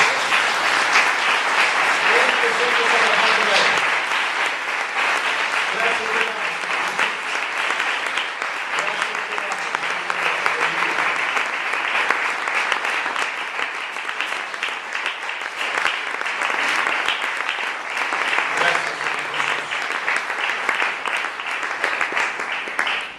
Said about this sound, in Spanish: un aplauso grande al Cordero de Dios